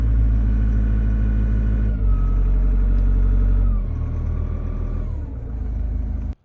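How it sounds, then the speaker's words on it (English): A large diesel engine runs loud and steady, its revs dropping and climbing in distinct steps, with a deep rumbling drone throughout. "as you can hear we can increase and decrease the revs from the unit"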